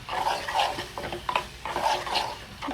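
A ladle knocks and scrapes against a cooking pot while a curry of chana dal, coconut and amaranth stems is stirred, making a rhythmic series of close metallic strokes over a low sizzle.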